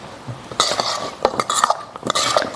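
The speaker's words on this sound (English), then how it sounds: "I'm going to stir that around once again." Celery dish being stirred in a pot, with a spoon clinking and scraping against metal in a few quick, close strokes and no talk.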